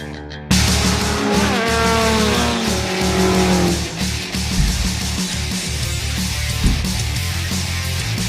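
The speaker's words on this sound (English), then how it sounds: "So we took the GTR, which is a beast, out on the track. We're doing hot laps." A Nissan GT-R lapping hard on a race track at VIR Raceway: a loud, close engine roar with rising gear-change sweeps, tire squeal and a steady growl throughout, with no talking.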